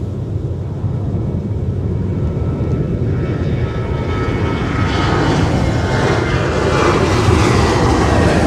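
A departing airliner climbs out of MSP airport in winter, its engine roar steady at first and then swelling louder and brighter over several seconds as it passes nearby.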